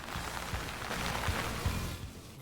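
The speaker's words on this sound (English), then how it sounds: "The sound of like almost raindrops or water on clothing." In the zombies map Verrückt, a character standing underwater hears a soft, continuous patter like raindrops or water falling on clothing, with a few dull low thumps mixed in and no speech.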